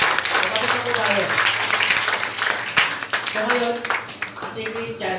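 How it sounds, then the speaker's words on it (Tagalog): A church congregation claps in applause during a service, a sustained rustle of many hands at moderate volume, with a voice speaking over it throughout. "Palakpak po muna natin."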